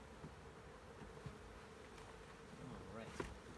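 A honeybee swarm fanning at a hive entrance, producing a faint, continuous buzzing hum with occasional individual bees buzzing past close by.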